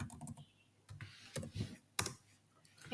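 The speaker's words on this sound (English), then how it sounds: "I'm going to type this IP and the subnet mask" Keys on a computer keyboard typed in a quiet room while entering an IP address and subnet mask, a short irregular burst of soft clicks followed by a few isolated keystrokes.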